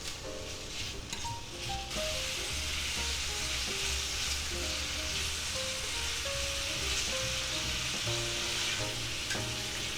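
Smoked sausages fry in a hot pan with cabbage, peppers and onions, producing a loud, dense, unbroken sizzle heard up close with faint clatter underneath and no speech.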